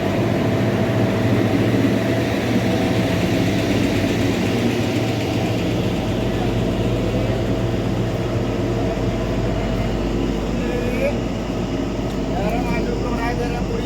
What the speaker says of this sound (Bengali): এই টয় ট্রেন ইঞ্জিন এসান থেকে দৃশ্যটা খুবই সুন্দর